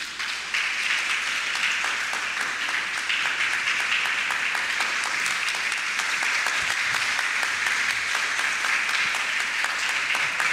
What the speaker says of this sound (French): Je vous demande, chers apprenants, d'applaudir chaudement vos parents qui êtes ici.